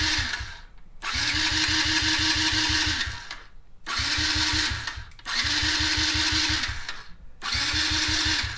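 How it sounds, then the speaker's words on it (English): The electric starter of a Yamaha TTR50 cranks on a battery jump starter in four long, rapid whirring bursts separated by short pauses, loud and close. "it's really spinning that starter"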